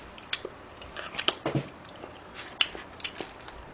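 Close mukbang-style chewing and biting on cold naengmyeon noodles and large meat dumplings, a scatter of soft wet bites and smacks with faint clinks of tableware, no talking.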